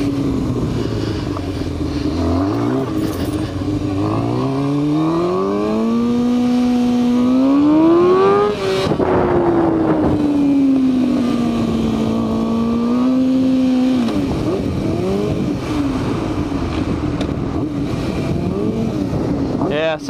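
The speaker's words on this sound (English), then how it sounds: "Gonna warm the tire up a little bit." A motorcycle engine revs to warm the tire on a daytime ride, its loud close note climbing, holding high, dipping and rising again in long sweeps before settling into a rough, steady idle.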